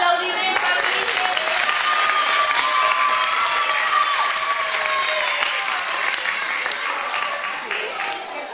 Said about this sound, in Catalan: Un aplaudiment per Iker